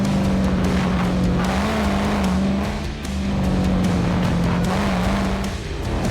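A Ford FG XR8 Boss 290 with a V8 engine slides through corners and jumps a ripple strip on a sprint track; the engine roars loud and close throughout, with pitch dipping briefly twice as the car slides.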